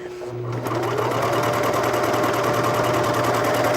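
A cover stitch sewing machine hums at a fast, steady mechanical rhythm as it stitches fabric, starting after a brief quiet moment and running loud and close to the end.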